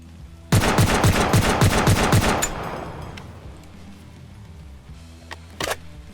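AK-50 .50 calibre rifle firing in the video game Escape from Tarkov: a rapid burst of about seven heavy, booming shots over two seconds, followed by a long echoing tail and a couple of faint later clicks.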